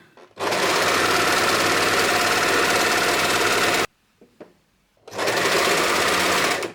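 A sewing machine stitches a chair cover in a loud, close, continuous whirring run, stops briefly with a few small clicks, then starts again.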